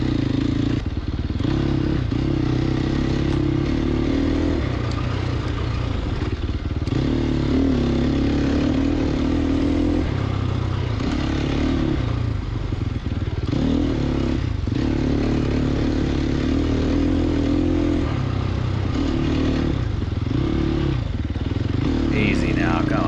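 Sherco 300 SEF dirt bike ridden off-road, its engine droning loudly and steadily throughout with rising and falling revs, plus scrapes, clatter and thuds from rough terrain, while people talk over it.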